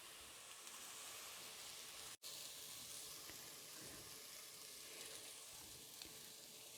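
Onions sautéing with a pinch of salt in a pan for bhindi masala give a steady, soft sizzle throughout, briefly cut off once by a short break, with no talking.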